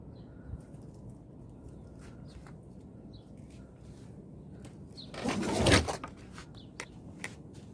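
Domestic birds fly overhead in an outdoor loft area. There is a quiet background, a short rushing burst of wingbeats about two-thirds of the way through, and a few faint soft calls.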